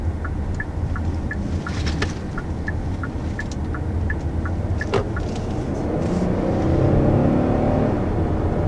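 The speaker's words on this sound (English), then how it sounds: "So first taking off in the Palisade, initial acceleration is definitely very nice and strong." A 2020 Hyundai Palisade with a 3.8-liter V6 and 8-speed automatic pulls away from a stop, the engine note rising and swelling louder over several seconds, heard from inside the cabin along with a repeated soft chime.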